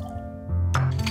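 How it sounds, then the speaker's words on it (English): St Germain elderflower liqueur poured for a cocktail, a glassy clink followed by a short splash of liquid over background music. "Add St Germain Elderflower Liqueur."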